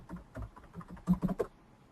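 A computer keyboard clatters in a short burst of typing, a dozen or so light, quick keystrokes close by with a brief pause before a final flurry, no voices present.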